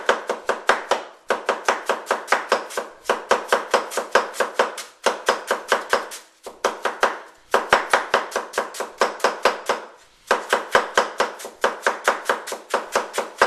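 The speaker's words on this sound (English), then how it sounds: "I'm spinning the cabbage as I'm holding the cleaver steady, and I'm cutting it very thin" A steady cleaver slices a cabbage very thin on a cutting board, producing rapid, even chops in runs of a second or two with brief pauses between them, close and loud with no talking.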